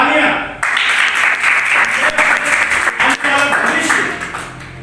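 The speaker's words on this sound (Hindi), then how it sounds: "आपके लिए तालियां" Applause from an audience at a block-level youth declamation competition run by Nehru Yuva Kendra Sangathan, a dense, steady wash of clapping that swells in after a brief quiet start and fades slightly toward the end.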